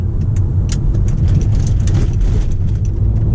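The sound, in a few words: turbo of a 1.8T Stage 2 VW Golf under acceleration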